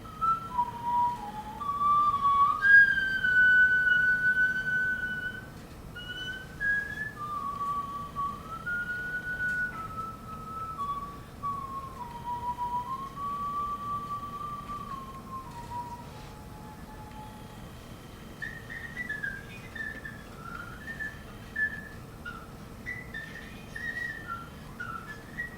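A breathy, whistle-like flute melody, wavering and sliding between notes, played solo at moderate volume with a soft background hiss.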